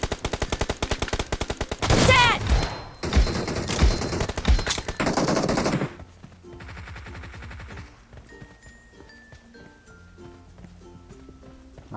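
Shotgun gunfire in the mobile game PUBG Mobile, loud rapid blasts packed densely through the first six seconds, then fading into quieter game noise and faint footsteps.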